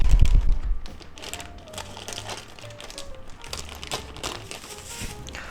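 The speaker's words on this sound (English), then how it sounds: "let's just cut the bag." Plastic sous vide bag holding a thick eye of round steak being cut open, giving close crinkling and rustling with a few sharp snips and crackles, loudest at the start and then continuing more softly.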